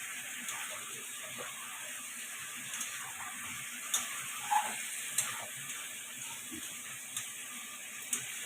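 Spice paste with salt for chicken curry sautés in a pan, giving a low, steady sizzle with occasional small ticks and scrapes of a utensil against the pan.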